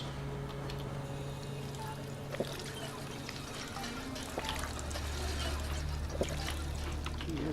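A water pump in the video game Fallout 4 pours a steady trickling stream of water, continuous and moderately loud over a low hum, with a few faint clicks.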